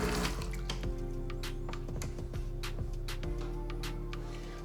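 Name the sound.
water dripping from DeLonghi ECP3220 espresso machine group head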